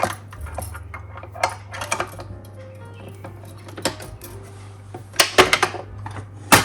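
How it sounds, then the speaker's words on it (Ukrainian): A whisk attachment is fitted onto a stand mixer over a clean, grease-free bowl of egg whites for chocolate meringue, giving sparse, close metallic clinks and knocks at irregular intervals with no talking. "Далі установлю насадку вінчик."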